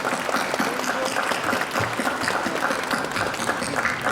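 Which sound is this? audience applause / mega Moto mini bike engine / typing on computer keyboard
audience applause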